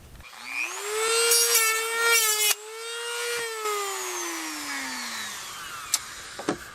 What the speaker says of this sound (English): a drum sander, and start drum sanding.